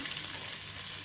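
Spice tempering fries in hot oil with onions in a pan for Maggie noodles, giving a steady, close sizzle with fine, continuous crackling and no talk.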